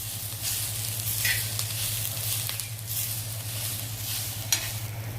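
Poppy seeds roast in a pan over fried onion for kaju masala, with a soft, constant sizzle and a low hum beneath, and a few scraping stirs of the spoon standing out.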